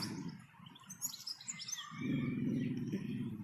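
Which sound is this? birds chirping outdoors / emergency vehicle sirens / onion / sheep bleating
birds chirping outdoors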